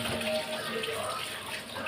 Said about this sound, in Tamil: நல்லா கொத்தமல்லி தழையை கழுவி எடுத்துட்டு வரேன்.